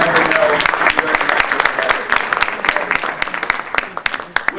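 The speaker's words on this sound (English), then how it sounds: "So I think that deserves a round of applause." Loud, sustained applause from an audience honoring a commission member at an evening ceremony, dense clapping filling the whole stretch and tapering slightly toward the end.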